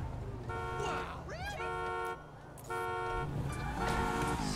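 Repeated car horn honks in the video game GTA 5, several long steady blasts in a row over engine and traffic noise, with a voice speaking between them.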